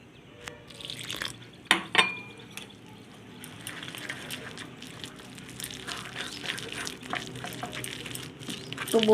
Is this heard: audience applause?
no